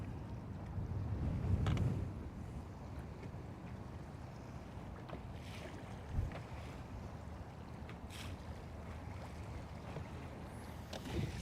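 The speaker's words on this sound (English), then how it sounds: "right now we have 14 mile an hour winds" Wind of around 14 mph gusting over Lake Guntersville buffets the microphone, a steady low rushing noise with a few stronger gusts, no voices present.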